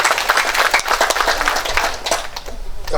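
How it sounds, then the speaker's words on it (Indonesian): Applause for the regent at a Karang Taruna youth organisation gathering in East Nusa Tenggara, a loud, close burst of many hands clapping that stays dense for a few seconds before easing slightly. "Tepuk tangan buat Pak Bupati."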